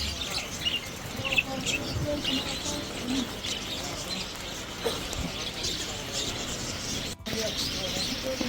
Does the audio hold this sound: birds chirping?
yes